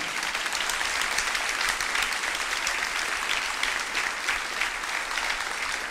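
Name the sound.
congregation applauding the Lord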